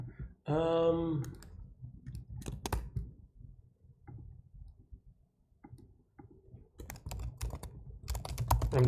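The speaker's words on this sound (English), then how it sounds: "just banging on the keyboard." Rapid, irregular key clacks from someone banging on a computer keyboard, loud bursts at the start and again near the end with quieter tapping between, recorded close up with no one speaking.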